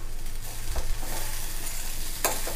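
Bitter gourd pieces frying in oil in a pan: a steady close sizzle with occasional stirring scrapes and a brief sharp clink near the end, no voices.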